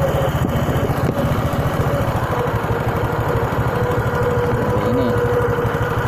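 Honda Supra 125 motorcycle engine idling steadily during idle adjustment, a close, even putter with constant rhythmic firing pulses and no voices.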